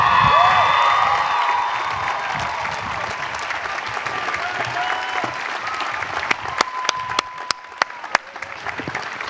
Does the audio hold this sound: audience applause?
yes